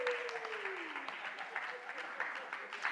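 Audience applause on a theatre grand opening night, steady moderate clapping from the crowd with a brief tonal sound and some voices underneath.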